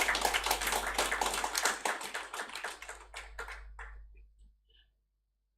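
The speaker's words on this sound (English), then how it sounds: "Give him a round of applause." An audience at a leadership conference gives a speaker a brisk round of applause, dense clapping for about four seconds that thins to scattered claps and then stops.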